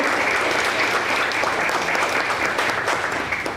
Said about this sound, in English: So I want to give a big round of applause to AARP New York